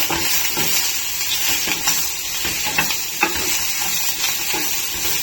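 Low-fat paneer fries in a pan with a bright, steady sizzle and faint crackle, joined by occasional light scrapes of stirring, close and continuous throughout.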